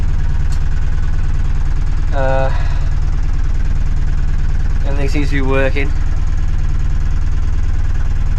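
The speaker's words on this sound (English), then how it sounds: "Engine's running." A sailboat's diesel engine idles on anchor with a steady, loud, rhythmic chugging throughout, while a person speaks briefly over it.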